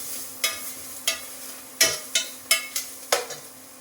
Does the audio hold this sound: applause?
no